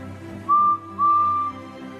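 Two toots from a steam engine's whistle, a short blast followed by a slightly longer one, ring out clearly above a low background hum.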